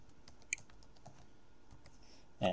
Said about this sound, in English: So type in your password for SourceForge.